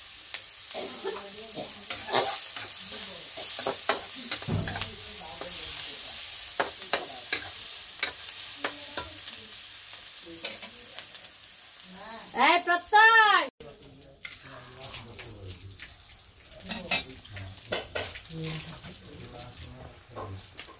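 In a home kitchen, egg is added to a pan of cooking food, bringing scraping, clattering stirring and a soft sizzle, with a brief louder burst of clanking partway through while people talk.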